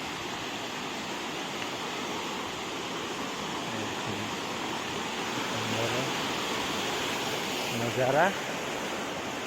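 Steady, loud rush of falling water at Devkund Falls, a continuous broadband roar filling the scene while someone speaks over it.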